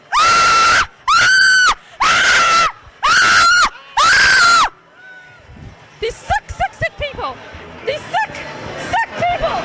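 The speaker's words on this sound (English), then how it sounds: "whenever you're in fear, always scream" A woman at the Chiller horror convention lets out five long, loud, sustained screams in a steady row, then a crowd murmurs and chatters in the background.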